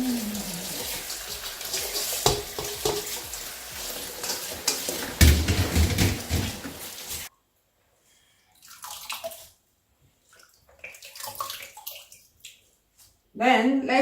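Vegetables being rinsed by hand in water while cooking a Nigerian vegetable soup, with a steady splashing and swishing run for about seven seconds, then quieter intermittent handling sounds and a renewed burst of water near the end.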